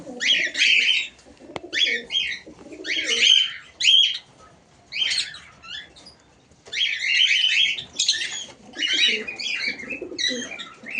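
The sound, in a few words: pigeons after bathing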